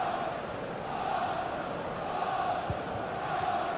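Stadium crowd in the FIFA 21 video game, Arsenal against Manchester United on PS5, makes a continuous distant roar and murmur of fans, even and unbroken, with no commentary over it.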